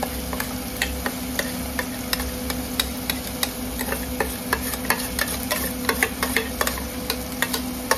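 A spoon stirs coconut masala into crab curry in a pot, with rapid scraping ticks over a soft continuous sizzle, close and busy.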